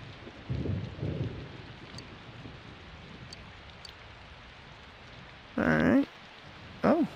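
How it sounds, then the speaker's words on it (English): Rain and a thunderstorm in the video game Persona 4 Golden, with steady rainfall throughout and a couple of low rumbles of thunder early on, plus brief louder bursts near the end. "Oh boy, lightning storms today."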